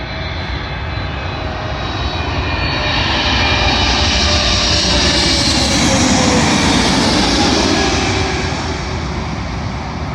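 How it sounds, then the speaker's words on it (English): An Air Canada Boeing 777 jet arriving at London Heathrow runway 27L on a Calgary service, its engines a loud, steady roar that swells slightly toward the middle and holds with no voices. "Arriving in now is a Air Canada Boeing 777, working a service from Calgary to London Heathrow"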